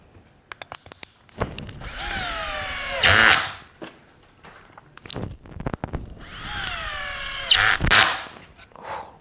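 A Tekiro CD-HD2047 12V cordless hammer drill drives a 5 cm screw into wood without a pilot hole, two long whining runs with rising pitch and brief clicks between, close and loud.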